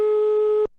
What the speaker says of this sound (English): You just hear a phone from,